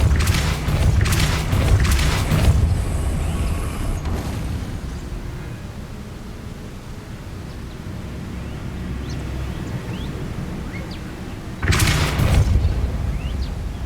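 Depulso spell blasts in Hogwarts Legacy: a cluster of forceful booming bursts at the start, a quiet rumbling stretch, then another strong blast near the end.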